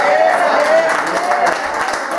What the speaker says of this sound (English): Somebody ought to give the Lord a hand clap right there.